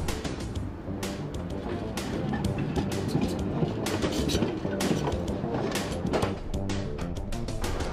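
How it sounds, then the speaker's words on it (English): Bendy city tram rounding a corner, with dense rattling and clicking of wheels on rail and sharp bursts of metallic squeal throughout, fairly loud and close, with no talk over it. "See how the tram goes round the corner."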